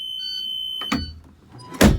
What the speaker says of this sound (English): turn the handle to make sure that the alarm is working, and it is.